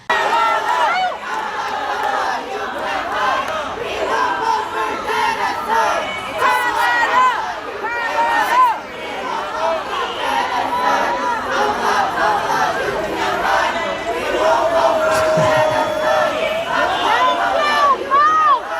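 Rally crowd chanting "Kamala, you can't hide" at a Kamala Harris event, a dense mass of voices shouting in rhythmic unison over general crowd chatter, loud and sustained throughout.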